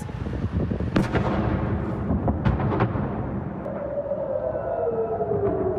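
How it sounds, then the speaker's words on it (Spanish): Several sharp booms and thuds of explosions in a Middle East war attack ring out over a dense, rumbling background, followed by a rising wail like a distant siren. "A las sirenas siguieron explosiones."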